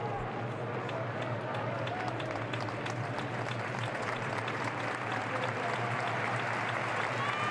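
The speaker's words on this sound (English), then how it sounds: "Roque Mesa is applauded off" A stadium crowd at a Real Valladolid versus CD Mirandés football match applauds a player leaving the pitch, giving a steady, dense wash of distant clapping and crowd noise with a low hum beneath it.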